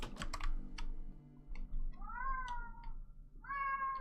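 A pet cat meows twice, close and clear, with rising-falling cries after a burst of computer keyboard typing clatter.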